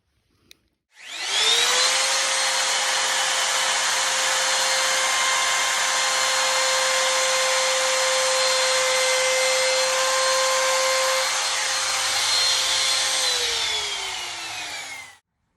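A power router runs steadily for about fourteen seconds, rounding over the edge and corner of a Lexan control deck protector on an arcade cabinet, a loud continuous whine that spins up at the start and winds down near the end, with no talking.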